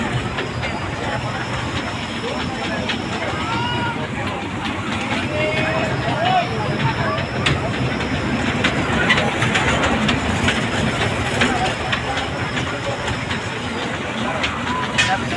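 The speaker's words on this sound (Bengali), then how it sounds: "এই যে রেল চলছে, ঝকঝক রেল চলছে রাত দুপুরে।" A toy ride train runs at a night trade fair in Netrokona, its engine humming and wheels clattering at moderate distance while people talk over it.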